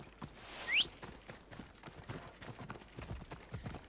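Phobos, a horse in Assassin's Creed Odyssey, gallops with rhythmic hoof clip-clops at moderate distance and a brief whinny-like call near the start.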